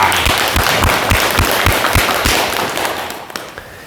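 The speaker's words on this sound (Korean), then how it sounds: "큰 박수 부탁드립니다" An audience breaks into loud, dense applause, many hands clapping at once, which gradually fades toward the end.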